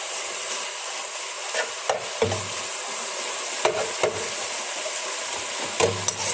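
Meat for homemade shawarma fries in a pan under a steady faint sizzle, broken by several soft scraping stirs and knocks of a utensil, close and quiet.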